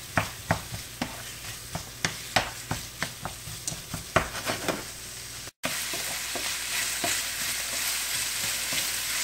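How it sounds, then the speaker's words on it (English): Italian sausage sizzling in a pan while a utensil breaks it up, sharp scraping clacks repeating for several seconds before a steady, louder fry hiss takes over, with no talk. "We're going to want to cook it for about 5 minutes or so until it's all brown and broken up."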